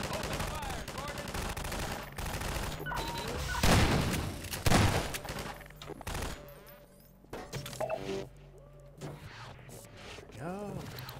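Rapid bursts of automatic weapons fire in Half-Life 2, loud and close with heavy thuds and crackling volleys, broken by lulls and mixed with a character's speech.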